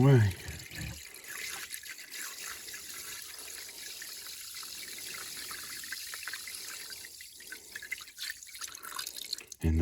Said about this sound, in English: we want to completely submerge it